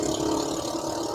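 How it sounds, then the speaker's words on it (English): A motorcycle revs and pulls away just outside a window, a loud continuous engine roar filling the whole moment with no voices over it. "It sounds like a motorcycle taking off right outside your window."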